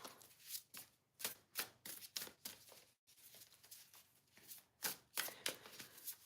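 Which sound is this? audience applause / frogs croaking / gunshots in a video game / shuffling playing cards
shuffling playing cards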